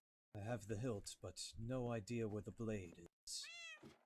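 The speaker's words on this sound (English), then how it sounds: "That's a cat." A cat meows in a fantasy video game, high rising and falling calls near the end following stretches of someone talking.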